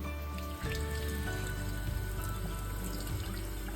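Running water pours steadily from a tap as a salty cured ham is rinsed, a continuous close splashing and spattering with no voices.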